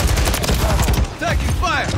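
Heavy, rapid gunfire roars steadily in Call of Duty Modern Warfare 3, a dense loud barrage of overlapping shots with brief whistling effects and a shouted voice near the end.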